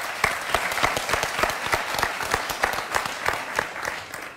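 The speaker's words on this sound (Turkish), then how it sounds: "Cesur alkışlıyoruz önce." Studio audience applause on a Turkish talk show: a steady, moderately loud patter of many hands with distinct sharper claps standing out, continuing without speech.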